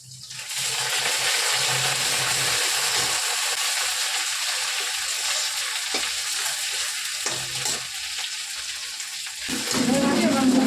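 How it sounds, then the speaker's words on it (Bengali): Ginger and cumin powder frying in hot oil in a home kitchen, a loud, continuous sizzle close by that swells again toward the end. "তাই তেলের মধ্যেই দিলাম আদা দিয়েছি এবার একটু জিরের গুঁড়ো দিয়ে দেবো"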